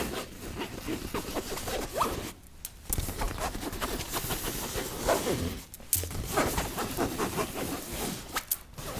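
A suitcase zipper is drawn open and shut again and again, close and crisp, in long raspy strokes broken by brief gaps where the pull stops and changes direction; no one speaks.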